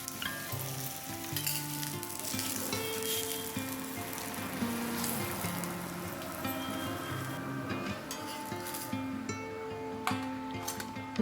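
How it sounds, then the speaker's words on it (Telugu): Cabbage appam frying in hot oil in a pan, a loud continuous sizzle with occasional stirring and light clinks, steady and close throughout with a faint musical tone underneath. "ఆయిల్ వేసుకొని ఆయిల్ కూడా హీట్ అయ్యాక ఇప్పుడు అప్పం వేసుకోవాలి"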